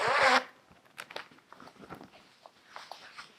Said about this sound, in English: So you can zip it open like that